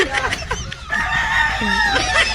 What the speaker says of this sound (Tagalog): Ito yung mga manok ni Boss Dandan.